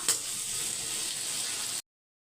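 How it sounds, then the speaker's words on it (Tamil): Onions and tomatoes sauté in a pan with a steady, close, hissing sizzle that runs evenly for under two seconds and then cuts off abruptly into silence. "இப்போ ஒரு கால் கிலோ தக்காளியை கட் பண்ணி சேர்த்துக்கலாம் இது கொஞ்சம் அப்படியே வதங்கட்டும்"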